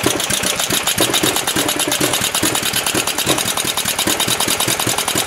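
A Generac G-850 portable generator engine on a warm start, chugging loudly and rapidly with a steady mechanical rhythm that runs close up through the whole stretch.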